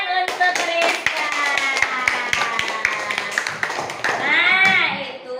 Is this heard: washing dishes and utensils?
no